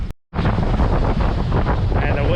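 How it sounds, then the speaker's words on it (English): Storm-driven waves surge through a damaged fishing pier in rough weather days after Alberto, a loud, continuous roar with heavy wind buffeting the microphone after a brief silent gap at the start. "The waves are coming through the pier."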